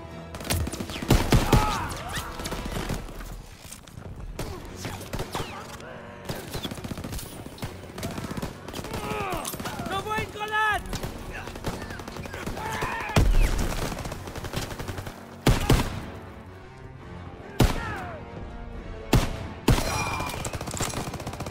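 Machine gun fire in a World War II beach landing video game, with repeated bursts and scattered shots through the clip, near and loud at times, mixed with battle noise and a voice talking over it.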